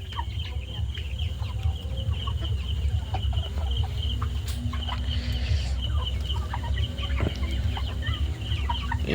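Tiger breed chickens on a poultry farm cluck in scattered, fairly close bursts over a steady low farmyard rumble, with no talking.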